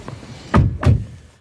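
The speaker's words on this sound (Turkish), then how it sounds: "Bir kapıları kapatalım abi." Two car doors of a Fiat Egea Cross shut one after the other, each a solid, close, heavy thump less than half a second apart, in a quiet interior.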